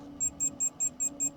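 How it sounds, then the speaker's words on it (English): Control module of an OvaEasy Advance Series II egg incubator sounding its buzzer: six short, evenly spaced high electronic beeps in a steady rhythm over a low hum. "You hear the buzzer sound."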